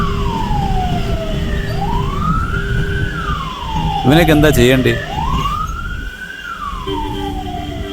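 An ambulance siren wails in long rising and falling sweeps as it comes up behind a motorbike on the road, with a burst of horn blasts in the middle. Someone talks over the sound throughout.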